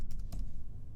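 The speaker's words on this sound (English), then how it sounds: "I can hit delete on my keyboard and type in mouse" A few soft keystrokes click on a computer keyboard during 3D animation software work, faint and close, with quiet room hiss between them.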